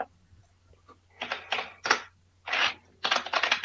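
Keys on a keyboard clatter in uneven clusters of sharp clicks, fairly close, over a faint low hum.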